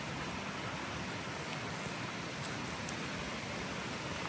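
A small artificial waterfall on a sunny hiking trail beside melting ice, a steady, even rush of falling water heard close and alone.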